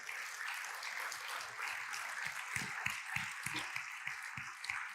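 A church congregation claps together in a sustained round of applause, moderately distant and fairly quiet, with low voices murmuring and calling out underneath.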